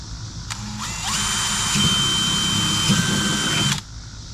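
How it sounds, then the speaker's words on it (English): A power drill bores holes through the wall of a plastic bait cooler, a loud close whine that rises to a steady grinding drone for about three seconds and then stops abruptly, with no talking. "we're going to go ahead and drill from the inside out."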